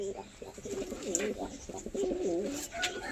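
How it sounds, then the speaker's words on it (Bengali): Malwai pigeons coo close by in soft repeated throaty phrases, with faint background noise between calls. "ছেড়ে দেখাচ্ছি পায়রা দুটো"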